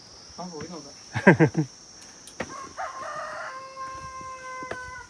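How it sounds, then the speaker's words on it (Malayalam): A rooster crows once in a village setting, fairly close, after a few short clucks and a voice, with a steady chirp of crickets running underneath. "കോഴി കൂവി കാണിച്ചില്ല. ഞാൻ ഇവിടെ ഉണ്ടാന്ന്."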